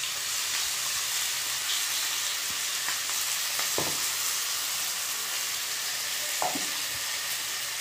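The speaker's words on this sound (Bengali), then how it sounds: "ক্যাপসিকাম আর পেঁয়াজ কুচি দিয়ে দেবো। দিয়ে এগুলোকে ভালো করে ভাজবো" Capsicum, onion and ginger-garlic paste fry in hot oil for chilli paneer, giving a steady, loud broadband sizzle throughout with a few soft stirring knocks, no voices.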